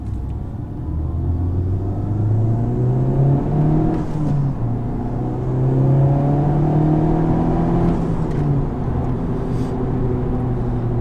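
Honda Civic Type R FK8 in R mode accelerating at about 30% throttle from roughly 4,000 to 5,000 RPM, a steady rising engine drone with road rumble heard from inside the car across several short pulls.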